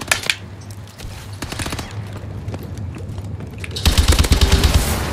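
Light machine gun fire in Call of Duty: Advanced Warfare Exo Survival, loud and close, with rapid automatic bursts broken by short pauses and a heavier sustained stream of shots toward the end.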